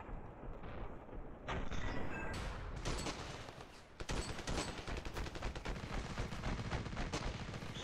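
Rocket launcher fire in a video game: loud explosive bursts and a dense, crackling volley of shots that keeps going, with a sharp blast around the middle and steady battle noise throughout.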